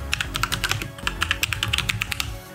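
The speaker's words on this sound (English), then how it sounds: "open up a terminal, type in .NET new podcast," Quick, uneven bursts of crisp key clicks from someone typing on a computer keyboard, close and clear against a quiet room.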